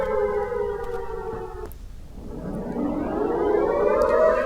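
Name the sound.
air raid sirens sounding in Eilat after Iranian missile attack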